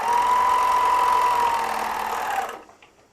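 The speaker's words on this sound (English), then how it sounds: "The Bruxel Sienna 4-thread overlocker." A Bruxel Sienna 4-thread overlocker serger stitching through a thick fabric seam, a fast, steady mechanical whir held close for about two and a half seconds before it stops abruptly.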